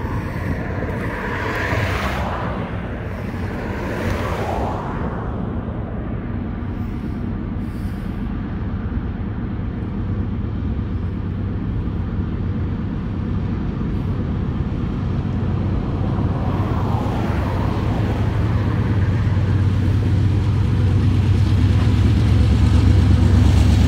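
A CSX mixed freight train led by diesel locomotives rolls toward Selkirk yard, a steady broad rumble with a deep engine drone that grows louder and nearer over nearly half a minute, under heavy wind buffeting.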